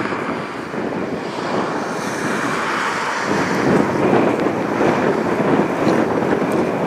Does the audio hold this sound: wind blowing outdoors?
yes